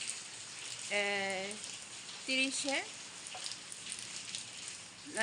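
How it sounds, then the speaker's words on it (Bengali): Rain falls steadily in Saudi Arabia, a dense even hiss running throughout, while someone talks over it in short bursts. "অন্য দিনের তুলনায় আজকে অনেক বৃষ্টি"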